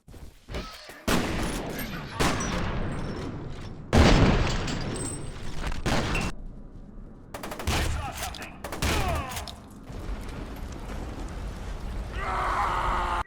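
Gunfire in the shooter game F.E.A.R. 2: loud bursts of automatic fire and single heavy shots come in clusters, separated by brief lulls.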